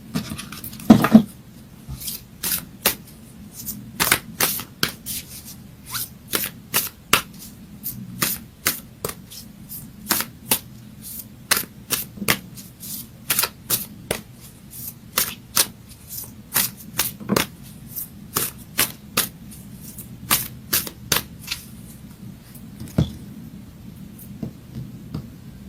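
Moonology oracle cards are shuffled by hand in a long run of sharp riffling snaps and soft slaps, irregularly spaced and close, over a quiet room with no talking.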